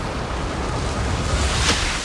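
Steady rushing wind from an emote in Call of Duty Mobile fills the whole moment, broad and loud like gusts sweeping past, with a slight swell near the end.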